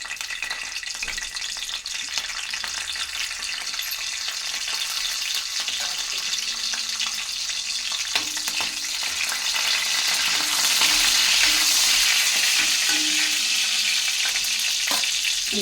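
Curry leaves frying in hot oil as they are stirred in a pan: a dense, steady sizzle and crackle that grows louder partway through, with occasional scraping, close up and continuous, no voices.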